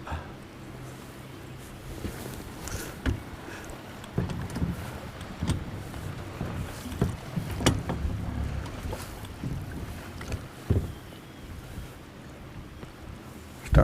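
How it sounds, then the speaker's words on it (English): Water laps and sloshes around boats outdoors, with wind buffeting and scattered knocks and bumps. "Starting to be quite a few boats coming out here"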